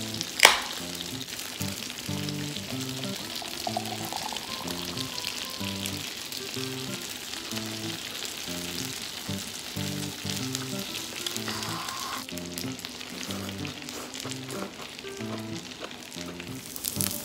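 Gyoza dumplings pan-frying in a skillet until crisp and browned, with a loud continuous sizzle and crackle throughout, a sharp clatter at the start, and background music underneath.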